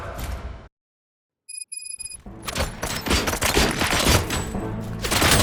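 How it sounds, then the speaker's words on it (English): In the video game Robocop: Rogue City, a sudden flurry of rapid, loud gunfire erupts after a moment of silence and short electronic beeps, continuing as dense crackling shots. "Gunshots? What's going on?"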